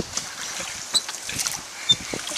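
A small boat paddles down a ditch outside Pointe-à-Pitre, Guadeloupe, with soft paddle strokes, light splashes and water trickles close by under faint wind.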